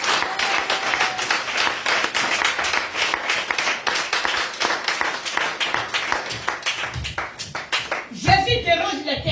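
Church congregation clapping during a French-language sermon, a steady run of dense hand claps carrying on for several seconds before a brief shift near the end.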